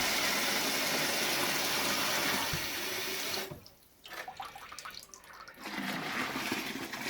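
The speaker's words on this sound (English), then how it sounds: "I tend to pour that in at a height to aerate." Homebrew stout wort poured from a height to aerate it, a loud steady splashing rush that cuts off abruptly, then gurgles and trickles before pouring resumes.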